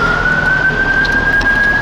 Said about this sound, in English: Nah, mate, it's an ambulance.